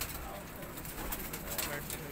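Soft cooing of low-flyer pigeons blends with a busy background murmur and faint voices, low and quiet.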